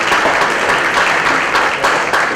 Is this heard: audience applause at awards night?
yes